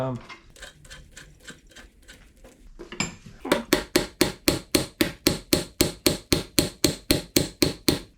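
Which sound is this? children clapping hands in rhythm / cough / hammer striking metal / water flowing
hammer striking metal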